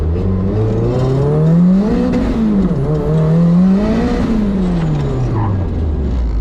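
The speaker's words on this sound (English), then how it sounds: "I want to see how hard I can actually brake before they lock up" A car braking hard during a braking test, its engine note sweeping down and up as it decelerates, loud and close, with continuous road and tyre noise throughout.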